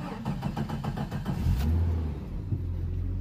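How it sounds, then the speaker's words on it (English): A 1989 Jeep Comanche engine, shifted into drive, cranks with a quick series of rhythmic starter pulses, catches, and settles into a steady low idle close by. "Oh yeah, it totally starts in drive."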